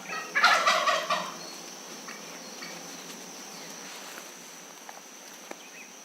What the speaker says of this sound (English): all of a sudden turkeys started gobbling